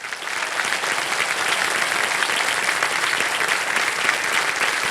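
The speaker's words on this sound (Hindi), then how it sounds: "तालियां बज जाए इनके लिए" Studio audience applauds steadily throughout on a televised Hindi quiz show, a dense, loud, even wash of clapping with no voices over it.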